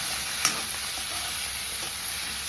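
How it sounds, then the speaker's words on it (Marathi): Chopped tomato sizzles in a pan of frying onions, a steady hiss with a sharp clink near the start and a few soft stirring scrapes, no one speaking. "आता मी टमाटो टाकते"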